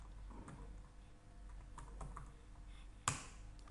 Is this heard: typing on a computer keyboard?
yes